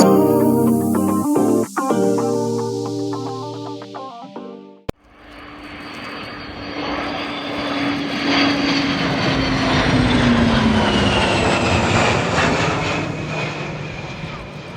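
A military jet flies past at an air tattoo show, a loud sustained roar swelling and sliding in pitch after an abrupt cut from quieter sounds, filling the rest of the clip.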